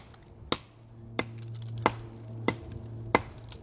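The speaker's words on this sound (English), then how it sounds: "This is a bit of a harder wood than the pine. So as we continue with chopping" A JBA knife bites into a block of hardwood, harder than pine: five sharp, evenly spaced chops about two-thirds of a second apart, each a crisp close thwack over a faint steady low hum.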